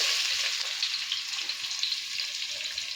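Onions sizzle and fry in a pan for a home-made vegetable biryani, a continuous close hiss of hot oil with faint stirring, no voices over it.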